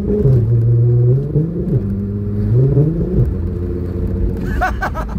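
A Nissan Skyline R32's exhaust rumbles loudly up close as the throttle is blipped in a swooping, tune-like pattern. A few brief sharp sounds come in near the end.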